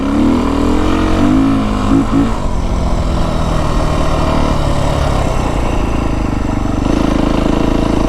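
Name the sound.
Beta 350 RR motorcycle engine with FMF slip-on exhaust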